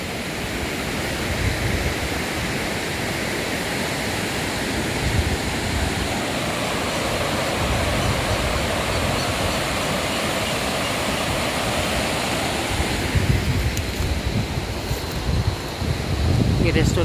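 Roaring mountain river in Uttarakhand under clouded skies, a loud, continuous broadband rush of churning water that persists steadily throughout with no clear voices above it.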